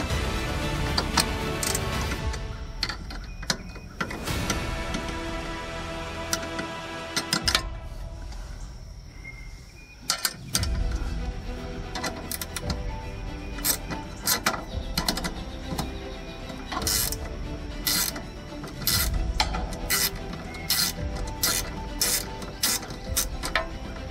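Two 10mm ratchets clicking while a boat jet pump is removed, giving dense, irregular metallic ratcheting bursts that run steadily up close with a short lull partway through, with no talk.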